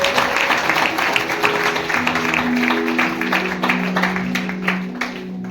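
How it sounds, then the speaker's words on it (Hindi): A church congregation claps loudly to glorify God, a dense sustained burst of applause from the crowd with a sung or held tone running underneath. "परमेश्वर को महिमा के लिए एक बार जोरदार ताली बजाएंगे"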